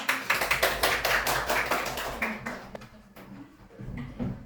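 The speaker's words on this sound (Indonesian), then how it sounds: "Tepuk tangan." Applause from a small group in a classroom teaching session, a short burst of close, loud claps that thins out into scattered taps within a few seconds.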